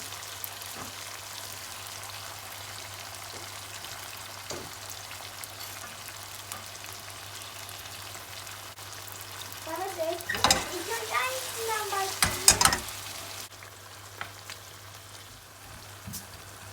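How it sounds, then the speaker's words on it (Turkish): Tomato sauce pours into a hot pan for a filling tomato dish, bursting into loud sizzling around the middle while a spoon stirs. The pan fries quietly before and after, close by, with no talk. "hem de böyle güzel bir domates tadı vermek için, tadını arttırmak için domates sosu ekliyoruz üzerine"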